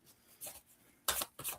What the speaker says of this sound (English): All right, Corby Lee, let me focus on you while I give these cards a shuffle.